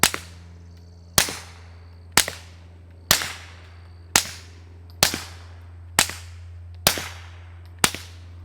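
Nine suppressed gunshots from rifles fitted with Echo Zulu Defense Atom and Atom Lite suppressors fire toward a dirt berm outdoors, each a sharp crack with a short decaying tail, spaced about one second apart over a steady low hum.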